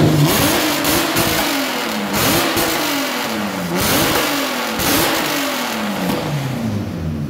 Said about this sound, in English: this is the first time the engine was started with the K-Series box attached to the C-Series